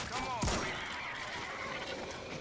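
A single sharp gunshot in the zombie shooter game World War Z cracks loudly near the start, followed by a brief rumbling tail under a low game background, with a voice talking.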